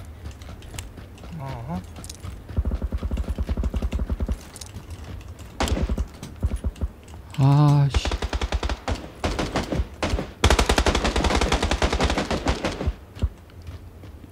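PUBG Battlegrounds gunfire crackles in rapid automatic bursts and single shots, some sharp and close, spread across the clip with pauses between volleys, while a player's voice and game sounds mix in.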